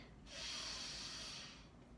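A deep yoga inhale taken while holding warrior two pose, a single long, close breath through the nose that swells and fades over about a second and a half, with no talking.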